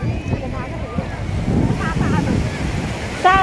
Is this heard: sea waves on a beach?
yes